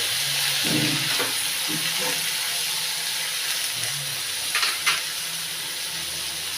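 Tomatoes and wheat semolina fry in a pan for upma, giving a steady close sizzling hiss throughout, with a few faint stirring scrapes near the end.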